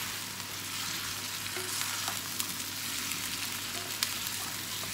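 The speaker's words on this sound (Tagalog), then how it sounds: "Haluin lang natin para pantay po yung pagkaluto" Chicken pieces fry with garlic in a pan, a constant bright sizzle with soft stirring scrapes and clicks, a low hum beneath it, heard close with no speech.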